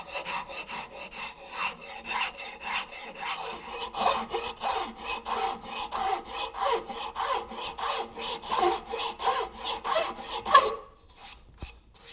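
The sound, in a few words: filing wood with a half-round file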